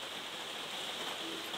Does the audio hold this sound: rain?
yes